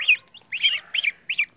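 Day-old chicks peep in several short, high, chirping bursts, close and fairly clear, with brief gaps and no talk.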